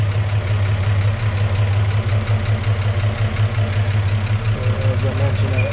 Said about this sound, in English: Let you listen to the engine. Engine sounds the way it should.